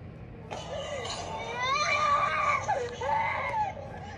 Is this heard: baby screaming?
yes